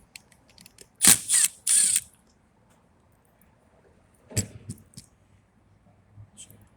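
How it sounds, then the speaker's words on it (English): Screws come out of the cylinder mount of a door lock being switched from right-hand to left-hand, heard as a few close, sharp ratcheting and clicking bursts of metal against metal, separated by quiet gaps. "So I'm going to take these two screws off."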